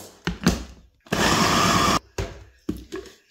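Electric four-blade food chopper pulses once for about a second, loudly coarse-chopping local walnuts, with clattering and handling knocks before and after the whirring burst.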